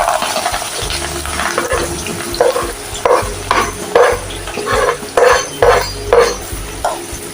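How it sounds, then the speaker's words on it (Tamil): Onions and green chillies fry in oil in a pan as a spoon stirs them in repeated rhythmic scrapes and clinks over a soft sizzle, close and fairly loud. "நல்லா இந்த எண்ணெயிலே அப்படியே ஃப்ரை பண்ணி இப்போ வெங்காயம் நல்லா ஓரளவு வதங்கிடுச்சு"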